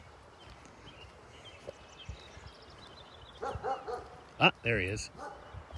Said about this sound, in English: There's another dog getting jacked up because he can't run around freely.